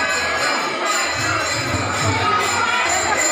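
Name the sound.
crowd at temple fair for Ekadashi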